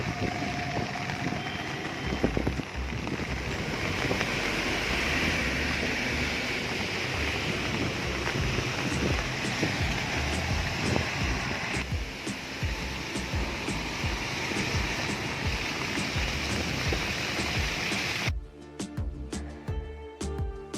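The flooded Kharun river at Kumhari rushes and surges in a dense, steady roar, loud and unbroken for most of the stretch before cutting off abruptly near the end.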